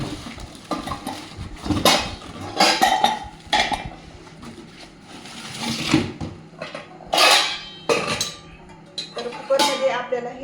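Steel pressure-cooker containers, part of a 30-piece utensil set with a 5-litre cooker, clink and clatter as they are handled, with intermittent metallic knocks and scrapes close by.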